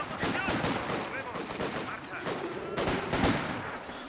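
An MG machine gun in the World War II strategy game Company of Heroes 2 fires repeated rapid bursts, sharp cracking rattles mixed with other distant gunfire in a busy battle, with faint game voices underneath.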